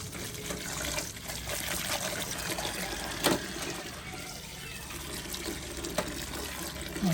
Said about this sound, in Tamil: உருவி எடுத்ததை பெரிய சட்டிக்கு எடுத்துட்டு கழுவுவோம்